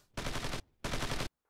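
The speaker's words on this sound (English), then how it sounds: "Bring up the machine gun" Bursts of machine gun fire in the World War II strategy game Squad Assault: West Front, two long loud rattling volleys separated by a short pause, then the start of a third, close and harsh with no talking.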